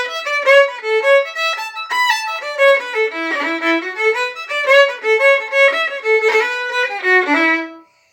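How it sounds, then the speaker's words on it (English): A lively fiddle jig played on violins: a quick, bouncing melody of clear bowed notes runs steadily for about eight seconds with no talking, then stops abruptly. "You'll hear it comes in on the violins and it goes like this."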